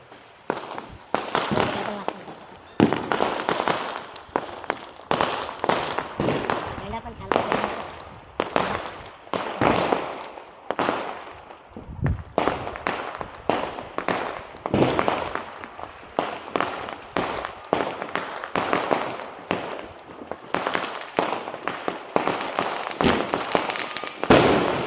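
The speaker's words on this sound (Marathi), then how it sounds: "थोड्याच वेळात फटाक्यांचा जल्लोष होईल" Firecrackers and fireworks burst at night during Bhim Jayanti celebrations, heard from a terrace. Sharp cracks and booms come one after another in dense, irregular volleys, near and far, with people talking now and then underneath.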